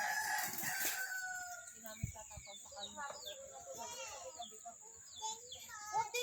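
Roosters crow repeatedly over a continuous insect and ambient background outdoors, with several chickens clucking nearby and occasional voices.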